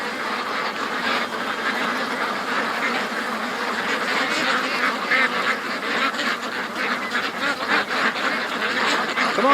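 Ducks quack and geese honk by a swamp, a dense continuous chorus of many birds at middle distance, steady throughout with no one talking.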